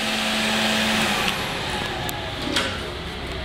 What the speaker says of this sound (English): Got a vacuum up here for your auxiliary.